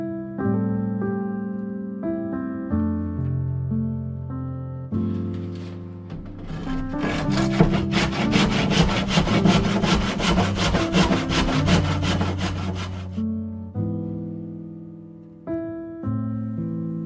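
A hand saw cuts wood for a St Lawrence skiff, rasping in a steady back-and-forth rhythm of strokes for several seconds, close and clear over background music.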